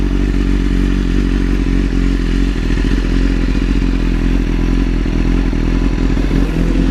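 A 2010 BMW S1000RR sport bike rides through downtown Houston streets, its engine droning loud and close without a break under heavy wind rush.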